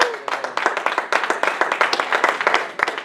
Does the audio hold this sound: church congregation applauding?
yes